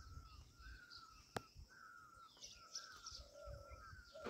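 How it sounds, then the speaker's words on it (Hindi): Crows caw repeatedly on a morning outdoors, several harsh calls at uneven intervals, mid-distance and fairly faint, with a few other birds chirping behind them and no talking. "और चिड़िया बोल रही है सुबह सुबह।"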